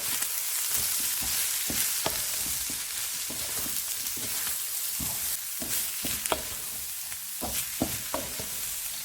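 Cabbage and other vegetables for chicken fried rice are stir-fried in a hot pan, giving a steady sizzle with irregular clanks and scrapes from a utensil tossing them; no talk.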